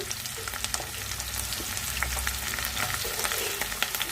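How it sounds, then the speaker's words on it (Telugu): Onions, green chillies and curry leaves sizzle in hot oil, a dense close crackle with frequent sharp pops and spits and some stirring, steady and loud from start to finish. "ఆయిల్ వేడవింది ఉల్లిపాయలు పచ్చిమిర్చి వేసుకుందామండి కరివేపాకు"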